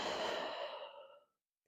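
A single long, close yoga exhale, a soft breathy sigh that fades out after about a second, followed by silence.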